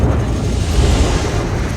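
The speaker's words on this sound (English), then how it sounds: "Lots of guns." Gunfire, many guns going off together in a dense, continuous roar of heavy low rumbling blasts, loud and sustained with no clear gaps between shots and no talking.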